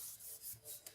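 Paper card being rubbed down by hand in soft, rhythmic strokes, a faint, close, dry swishing repeated several times.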